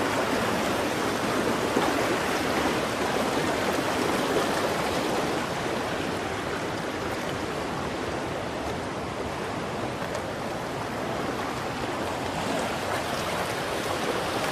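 Floodwater in a flooded park rushes and churns against the underside of a bridge, a loud, steady broadband roar of turbulent water that holds constant throughout with no talking.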